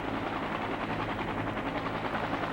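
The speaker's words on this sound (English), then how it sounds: "Hour after hour, helicopters continued picking up loads of evacuees." Helicopters ferrying evacuees during the final American evacuation of Vietnam produce a dense, continuous rotor rumble and thrum, loud and close, with no voices over it.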